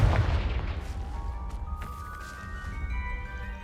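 A Confringo spell blast in Hogwarts Legacy lands as a loud, booming explosive burst at the start, followed by a lingering ringing, shimmering tail that slowly fades.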